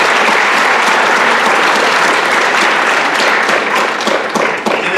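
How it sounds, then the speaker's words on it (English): Loud, dense applause from a crowd at a school academic awards ceremony, honoring faculty and staff, holding steady throughout and easing slightly near the end. "let's give our faculty and staff a round of applause"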